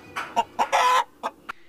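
A rooster on a small farm beside a highway, where hens and a few roosters are kept, gives a series of short, close clucks with brief pauses between them.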